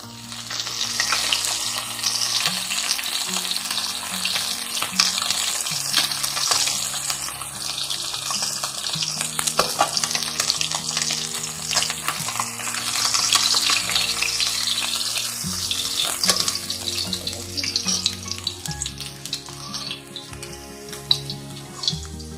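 Pieces of bhola fish fry in hot oil in a wok with a steady, close, crackling sizzle and occasional spatters and stirring sounds, with no talking.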